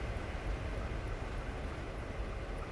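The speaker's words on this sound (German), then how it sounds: "es hört sich an, als wenn ein Zug hier fährt" Train running nearby, a continuous low rumbling roar that holds steady and fairly loud throughout, with no voices.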